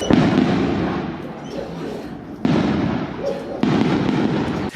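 Dense booming bursts of New Year's fireworks in Sicily in rapid succession, with fresh volleys kicking in twice, loud and continuous with a crackling rumble throughout.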